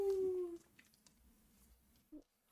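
A tabletop role-play player gives a brief, close vocal imitation of a werewolf's howl, a single sustained falling wail lasting about half a second, followed by faint room noise and a short soft sound.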